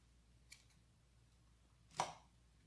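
Scissors snip crochet yarn while an amigurumi doll is being made, a faint click followed later by one sharp, close cut in an otherwise quiet room.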